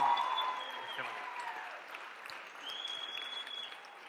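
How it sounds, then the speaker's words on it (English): Audience applause at a live Ignite talk event, a steady wash of clapping from a crowd in a hall that swells briefly and fades slightly, with no speech over it. "Can we get another really big round of applause for Kat and the Ignite staff?"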